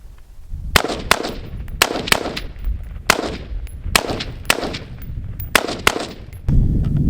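Rifle fired at multiple targets in a sequence of sharp, loud gunshots, about nine in rapid uneven succession, each with a ringing clang-like tail, close and without speech.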